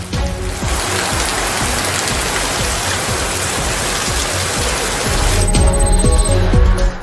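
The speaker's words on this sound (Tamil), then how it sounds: "பல்வேறு பகுதிகளில் கனமழையும் ஒரு சில பகுதிகளில் மிதமான மழையும் பெய்தது" Heavy rain pours onto flooded roads in Tirupur, a dense, steady hiss of drops and running water. It stays loud and close throughout and swells slightly toward the end.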